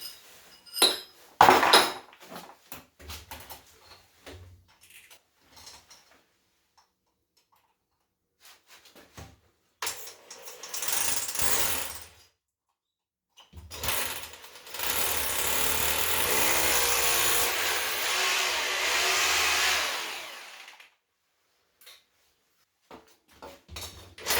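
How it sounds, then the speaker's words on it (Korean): Power drill boring holes for an electric water heater connection, first with a thin bit then a thicker one, with clanking handling noises, a short grinding burst, then a loud sustained drilling run of several seconds. "먼저 이 얇은 걸로 뚫고 그 두꺼운 걸로 또 그렇게 할게요"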